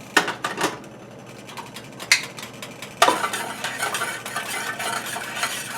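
Sushi rice seasoning is swirled in a pan over low heat. Scattered light clinks and scrapes come first, then a steadier, close swishing of liquid against the pan.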